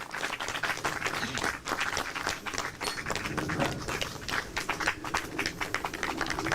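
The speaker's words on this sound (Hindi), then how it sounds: "जब तक इनको कप ना मिले तालियां बजती रहनी चाहिए" A crowd of farmers claps steadily for a prize winner at a farmers' question forum on crop residue management. The dense, continuous applause stays loud and even throughout, with sharp individual claps standing out.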